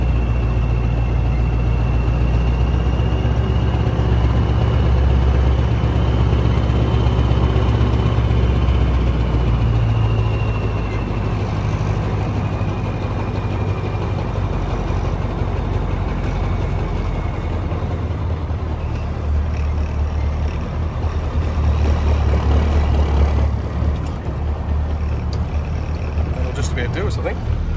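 Semi-trailer trucks idle and move at a grain receival hopper during harvest. A deep, close diesel rumble runs continuously, with someone talking over it throughout.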